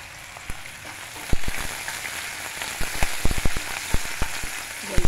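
Garlic and curry leaves fry in hot oil in a pan, giving a steady sizzle with scattered sharp pops and crackles throughout, fairly close and alone with no talk.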